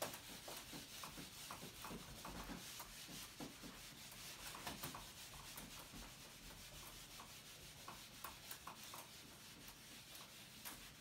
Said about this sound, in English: Let me write that on the board.